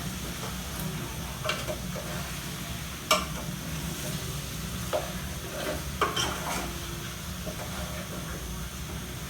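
Chicken frying in oily fat in a pan, stirred with a spoon, a steady close sizzle broken by a few scraping stir strokes and clinks, with no voices.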